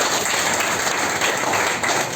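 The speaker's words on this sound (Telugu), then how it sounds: "ఒకసారి ముగ్గురికి క్లాప్స్ కొట్టాలి." A small indoor group claps for three people, a brief burst of close, busy applause lasting about two seconds.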